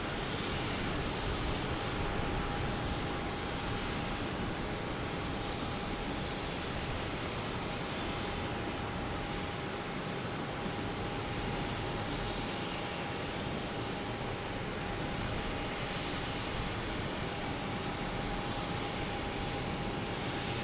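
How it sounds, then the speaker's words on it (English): A JetBlue Airbus A321, flight 434 in from San Francisco, comes in to land at Boston Logan with a faint, far-off continuous engine drone and a thin steady tone. No one speaks. "we have a JetBlue coming in from San Francisco. A321, flight 434"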